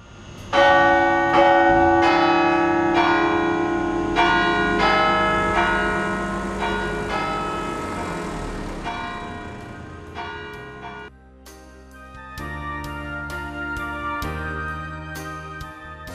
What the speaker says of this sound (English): the visitor can also avail of the opportunity to play various tunes on the bells